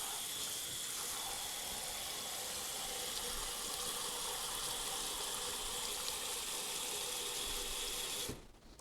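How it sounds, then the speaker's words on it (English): Tap water pours steadily into a bowl of rice during rinsing in a kitchen, a continuous broadband rushing stream that runs unbroken for about eight seconds before cutting off abruptly near the end. "as it's filling the bowl, even as I fill it, the water's going in"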